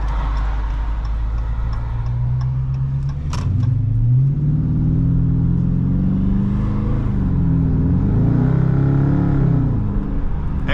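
A 2021 Dodge Charger R/T with a HEMI V8 accelerates from inside the cabin, its deep engine note rising and dropping through downshifts with rpm sweeps, plus a few ticking clicks early on.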